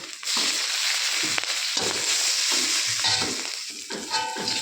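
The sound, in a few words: frying spices and green chilli in hot oil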